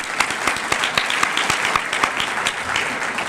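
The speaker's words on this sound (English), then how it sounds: "a round of applause." An audience at an evening green business recognition event claps for honored companies, a lively crowd applause with distinct individual claps standing out, steady and close, continuing for several seconds without speech.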